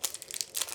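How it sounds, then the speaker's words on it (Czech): Leftover parts from a Prusa MK4S to Core One conversion kit go into a plastic bag, making a brief, faint rustle and crinkle of plastic in two quick bursts. "Zbylé vložíme do pytlíku."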